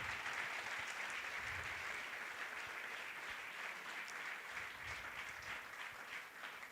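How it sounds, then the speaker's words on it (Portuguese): A church congregation applauds during a worship service, with steady, sustained clapping that fills the room at an even level throughout and no talking over it. "Você pode aplaudir mais."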